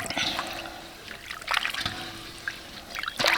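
Pickled vegetables being rinsed in water, with splashing and trickling in irregular bursts up close and a faint steady hum underneath.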